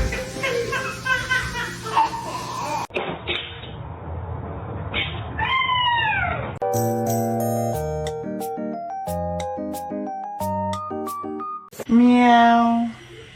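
A kitten meows in several short, rising calls, close and clear, interspersed with other cat-video sounds including bright tonal musical effects and a loud final meow.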